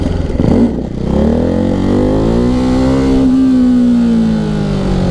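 A Ducati 698 Mono single-cylinder motorcycle engine revs hard and holds a high, droning pitch during a clutch-up wheelie, loud and close with no talking.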